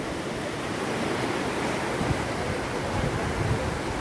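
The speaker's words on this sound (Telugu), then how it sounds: "ఇప్పుడు గేట్లు తెరిచినందుకు వాటర్ కూడా ఎట్లా పోతుంది." Canal water from the Ellur lift of the Mahatma Gandhi lift irrigation scheme rushes steadily after the gates are opened, a continuous broadband roar without breaks or voices, like a nearby torrent.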